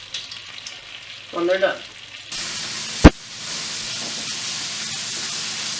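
Schnitzel sizzles steadily in a hot frying pan, a constant bright crackle that steps up louder partway through, with a sharp clatter midway and a short spoken phrase early on.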